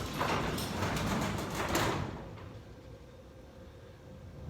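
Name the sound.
high-lift sectional garage door being lifted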